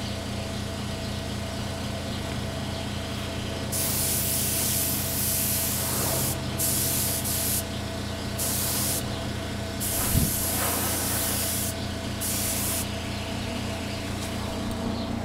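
A spray gun lays silver paint onto a Benelli motorcycle fairing during restoration, its steady hiss starting and stopping in several bursts over a low background hum.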